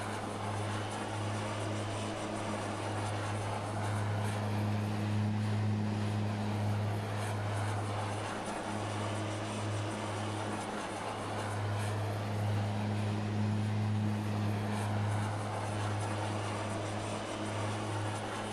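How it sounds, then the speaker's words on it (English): Twin piston engines of a Beech 18 in a flight simulator game drone steadily in flight, a loud continuous throbbing hum with gently pulsing beats and no talking. "Just the sound of the engines."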